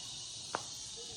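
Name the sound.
loud cricket chirping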